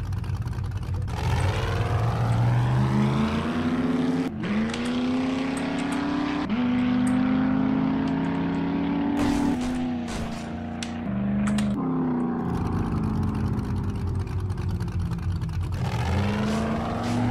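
A jeep-style pickup engine in the survival game 7 Days to Die drives and revs, pitch rising and falling in repeated surges, loud and close with brief drops between gear changes.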